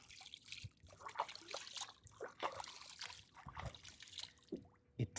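A hand dips and splashes in the freshwater of Lake Naivasha, producing faint, irregular trickles and little sloshes close by, with soft outdoor ambience around them.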